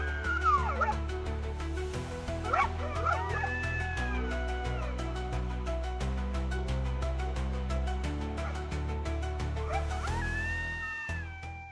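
A chorus of high yips and wavering howls rises and falls repeatedly over a steady low drone, several animals calling at once from a moderate distance.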